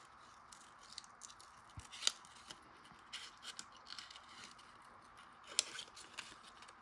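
Scissors snip out a paper shape in quiet, close, scattered cuts, with a few sharper crisp snips among soft rustling.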